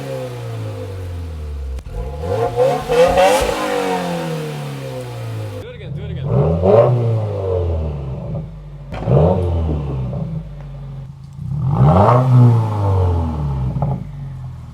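A Subaru WRX fitted with an MBRP axle-back exhaust revs repeatedly, each rise and fall of the engine loud and close, with people talking over and between the revs.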